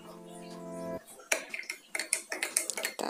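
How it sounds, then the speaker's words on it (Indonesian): A spoon stirs a boiled drink of turmeric, ginger, lemongrass and lime in a glass, clinking sharply against the sides in a quick, irregular series of close taps after a brief hum. "Setelah itu kita aduk rata"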